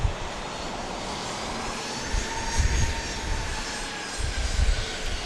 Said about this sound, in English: it won't be long before we see another plane lifting off into the sky here